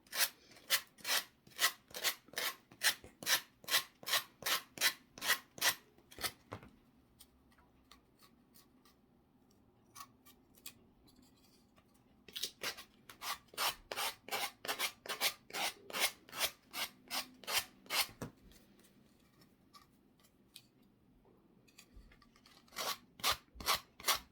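A wooden cross is sanded by hand in quick, regular back-and-forth rasping strokes, in close bursts separated by quiet pauses.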